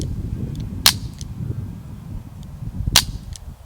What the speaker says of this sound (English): It's actually funner to shoot it in double action